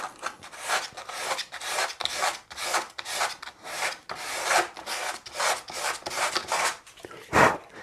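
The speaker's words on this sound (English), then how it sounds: "scrape with a sharp chisel. to get the thick of it off." Sharp chisel scraping wood during a scratch guitar build, a steady series of rhythmic rasping strokes, about a dozen close and loud passes with brief pauses between, no talking.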